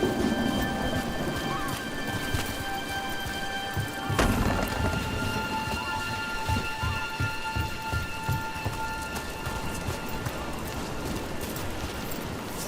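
Steady rain pours down in a Dragon Age: The Veilguard game scene, a constant wet hiss with a sharp thunder-like crack near the middle and rhythmic hoof-like clopping underneath.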